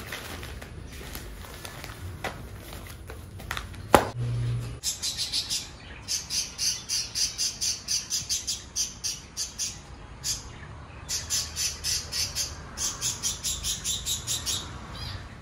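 Birds call in a home garden on a cool morning, a rapid run of bright repeated chirps in bursts, moderately close, with a few sharp knocks and a brief low thud early on.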